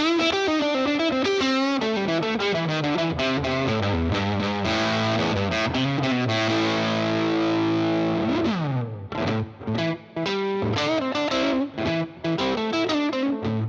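A loud, gritty PRS NF53 electric guitar on its bridge pickup plays chords and runs with a distorted, chorus-tinged edge, continuous and up close, no talking.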